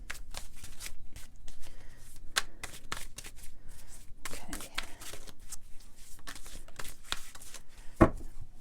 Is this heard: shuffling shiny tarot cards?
yes